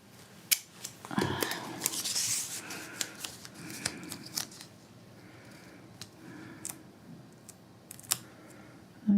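Painter's tape is pulled and pressed onto an acrylic painting canvas, with a close tearing rip early on, then soft rubbing and scattered light clicks and taps.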